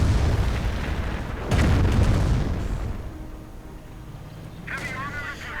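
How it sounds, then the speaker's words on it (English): A Calliope rocket artillery barrage in a Company of Heroes battle rumbles with deep booms and rolling explosions that fade into a lower rumble, under a commentator's speech. "Another Calliope barrage though, to soften things up."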